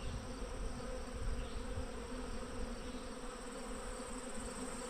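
Honeybees hum in a dense, continuous buzz around an opened hive during an inspection, the drone steady and close with no talking.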